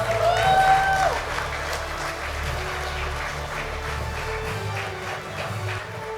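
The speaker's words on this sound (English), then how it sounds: "Please raise your glass as we acknowledge and applaud Mr. Gray" Guests at a ministry awards ceremony applaud a retiring honoree for 40 years of service, a moderate crowd clapping steadily in a large room with a brief tonal sound near the start and murmuring underneath.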